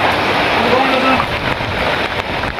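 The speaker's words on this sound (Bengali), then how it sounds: "আর বৃষ্টি হচ্ছে, অনেক বৃষ্টি হচ্ছে, অনেক বৃষ্টি, অনেক।" Heavy rain pours at an early-morning market, a dense, loud, continuous hiss of falling water without pause.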